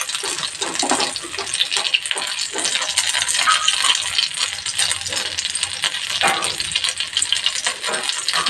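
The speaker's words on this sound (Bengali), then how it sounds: "না খুললে এভাবেই সব কাবাব গড়ে নেব, গড়ে ভেজে নেব।" Soya chapli kababs shallow-fry in a pan, a loud, dense, continuous crackling sizzle of oil close up, with faint rattling and no talk.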